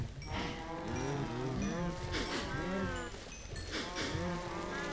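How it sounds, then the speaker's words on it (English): Cows mooing in the video game Minecraft, several long drawn-out bovine calls overlapping one after another over steady background game ambience, fairly close and clear, with no speech. "Must feed the cows"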